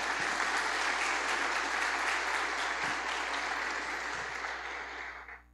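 A church congregation at a worship service gives sustained, dense applause, loud and steady for several seconds before tapering off at the end.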